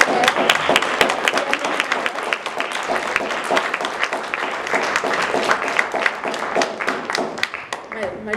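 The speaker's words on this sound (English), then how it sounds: "let's do a round of applause." Applause from an audience at a student government candidate forum: dense, steady clapping that carries on for about eight seconds at even loudness, with no talk over it.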